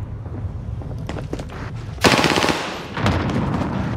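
Automatic gunfire in Call of Duty Warzone on Rebirth Island, two loud sustained bursts of rapid shots with brief gaps between, close and sharp with little else around them.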